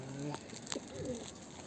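Soft, low pigeon coos close by in a loft in Manisa, Turkey, a few rolling calls over a steady background hum.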